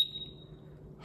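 A SENKO multi gas detector sounds a single high-pitched electronic alarm beep at the start during a button-triggered alarm test, then fades to quiet room tone.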